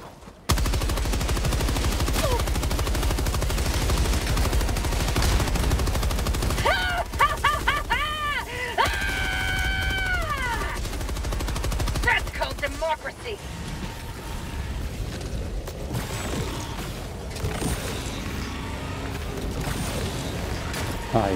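Machine gun fire in Helldivers 2, dense rapid bursts running almost the whole way through, loud and close, with game effects and a voice talking over part of it.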